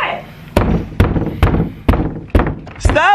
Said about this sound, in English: Stop banging on my door.